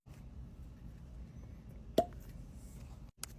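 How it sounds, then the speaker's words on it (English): A cork pops out of a wine bottle with a single short, soft plop in a quiet room, followed moments later by a fainter click. "That was a fair cork pop."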